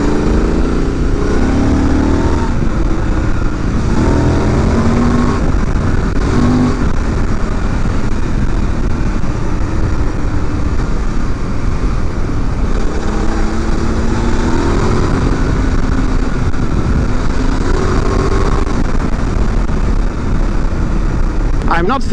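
A Honda Transalp 750 with racing suspension settings rides along a road, its steady engine and wind noise continuous and loud throughout, with a rider talking over it.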